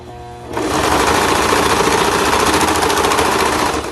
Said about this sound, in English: I'm just going to serge while holding this tag down so that it doesn't shift while I go underneath the serger